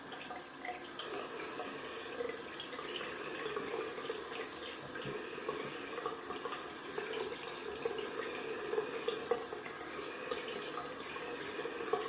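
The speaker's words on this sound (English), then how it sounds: "Gonna rinse off in cold water." Cold tap water runs steadily into a sink while a face is rinsed after a shave, a continuous close splashing hiss with small irregular spatters and no talking.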